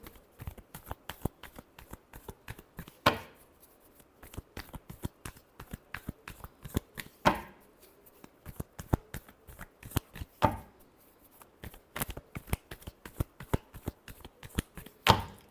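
A deck of tarot cards is shuffled by hand in a quiet room. Rapid, close riffling flicks come in bursts, with sharper taps every few seconds as the deck is squared, and no talking.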